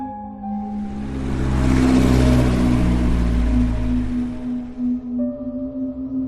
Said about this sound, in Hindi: कभी कभार ही उसे सामने से कोई कार आती दिखती थी या फिर ओवरटेक करती थी